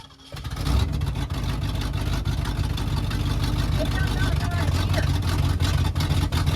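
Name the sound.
old Ford engine revving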